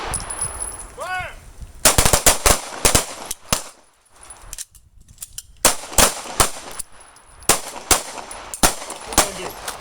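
Combat pistol shooting drill on a range, with sharp gunshots fired in quick bursts of two and three, loud and close, separated by short pauses and a brief quiet gap partway through.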